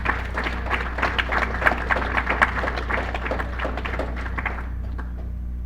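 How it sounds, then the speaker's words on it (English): Applause from a modest audience at a college soccer info session, individual claps distinct in a moderate steady patter over a low room hum, tapering as it fades out. "Let's give them another round of applause"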